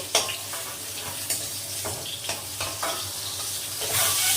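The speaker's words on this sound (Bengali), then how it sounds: "এর মধ্যে গোটা জিরে ফোড়ন দিয়ে দিয়েছি দিয়ে একটু নাড়াচাড়া করে দিচ্ছি" Whole cumin seeds tempering in hot oil in a home kitchen, stirred in the pan: a steady close sizzle with repeated scraping stir strokes, growing slightly louder toward the end, with no talking.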